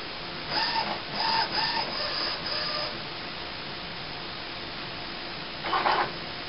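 Epson inkjet printer running its ink-wasting setup cycle after new cartridges are inserted: a few bursts of whirring mechanical chatter over steady motor hum, a quieter stretch, then one more short clattering burst near the end.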